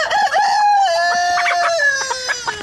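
A pet chicken clucks and calls loudly up close, a run of drawn-out, wavering vocal notes followed by short choppy clucks.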